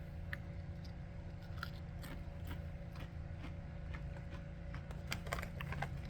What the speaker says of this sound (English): They look amply seasoned, look at that. They look as amply seasoned as Doritos normally are, right? Let's check it out.